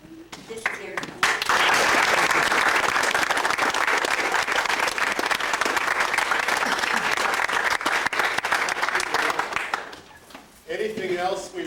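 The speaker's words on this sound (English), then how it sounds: "I really think we owe these three men, Stephen, Nigel, and Reuben, a great round of applause" Loud, sustained applause from a crowd at a family reunion fills most of the clip, rising sharply and then fading, with brief talk before and after.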